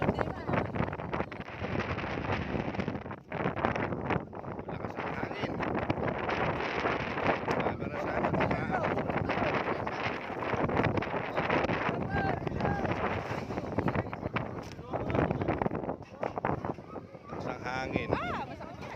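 Gusty wind buffets the microphone with rumbling, uneven roaring throughout, while voices talk faintly beneath it.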